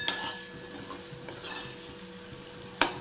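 Thick spice masala for a cauliflower curry sizzles and fries in a pan, a steady soft crackle stirred now and then, with a sharp scrape of the spoon near the end.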